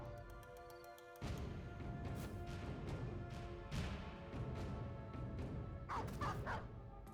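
Dog barks and yips in a video game, a run of sharp repeated barks over game music and effects, fairly loud, with a brief whimpering cry near the end.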